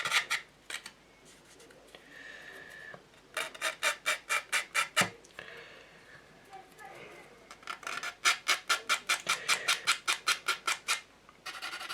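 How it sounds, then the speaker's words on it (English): A small wooden part from an Amati Viking ship Drakkar model kit is sanded to remove the nub. It comes as two runs of quick, rhythmic back-and-forth rasping strokes, close and crisp, with quieter gaps and faint background sounds between. "So you just basically sand off the nub like you would with a normal plastic kit."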